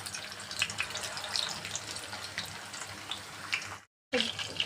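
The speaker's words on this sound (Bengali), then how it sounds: "মিডিয়াম রেখে আমি এখন কোপ্তাগুলো ভেজে নেব" Beef nargisi kofta frying in medium-hot oil in a large wok, four at a time, giving a steady broadband sizzle and crackle throughout, with a brief break near the end.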